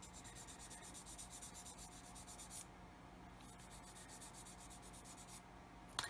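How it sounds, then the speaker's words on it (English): Quiet, rhythmic rubbing strokes of sandpaper on a small hard plastic part of a 1/24 Airfix F6F-5 Hellcat model kit, close up, with a short pause midway before the scraping resumes. "I'm going to have to keep sanding that away"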